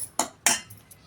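Batter for an easy breakfast dish being beaten in a bowl, heard as two sharp close utensil strikes against the bowl followed by faint lighter taps.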